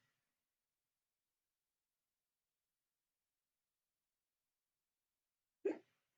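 A single sharp hiccup from a person breaks an otherwise silent stretch, close and fairly loud, heard once near the end with nothing else around it.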